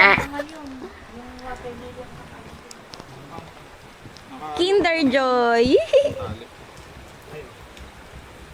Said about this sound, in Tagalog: Oh, medyo umuulan lang.